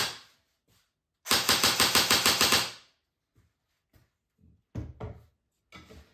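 An LCT PP19-01 Vityaz airsoft gun running on an 11.1 volt LiPo battery fires a rapid burst of about ten sharp, evenly spaced shots up close, followed by a few scattered handling clicks and knocks.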